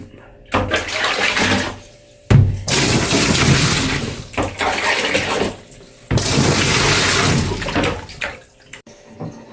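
Water gushing and splashing into a washing machine tub in several loud bursts separated by short pauses, with some voices in the background.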